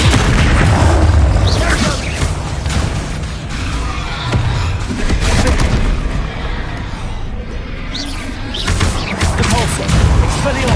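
Spell explosions from the Bombarda charm in the Hogwarts Legacy video game, repeated loud booms and crashes in dense combat, layered with other spell effects and overlapping voices shouting.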